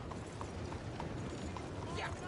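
Horse hooves in the Red Dead Redemption 2 video game clip-clop in a steady, faint rhythm beneath a dense, noisy background, with one brief voice near the end.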